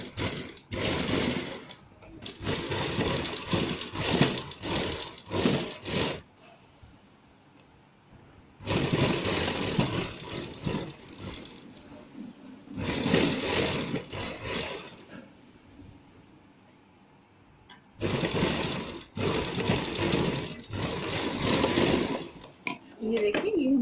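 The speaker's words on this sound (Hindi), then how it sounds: "ये देखिए ये हमारी अब सिलाई लग गई है।" A sewing machine stitching a line across fabric sleeves in three long bursts of steady whirring, with quiet gaps and a voice talking in between.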